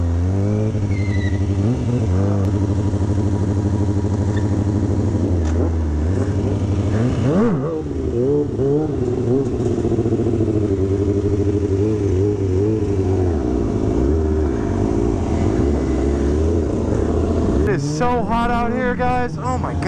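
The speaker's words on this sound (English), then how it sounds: "I just turned my bike on" Motorcycle engine idling and revving after starting on a hot day, a continuous loud mechanical drone with rises and falls in pitch, heard up close while people talk over it throughout.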